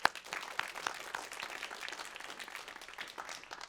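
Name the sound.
audience applause at an awards ceremony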